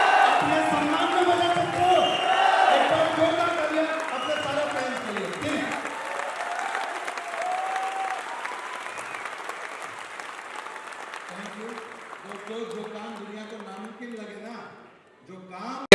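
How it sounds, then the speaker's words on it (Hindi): Audience clapping at a business training seminar, spread through a loud crowd with a voice talking over it, fading away as a few people speak near the end. "आप अपनी जगह पे खड़े होकर एक बार जोरदार तालियां बजाएं इनके लिए"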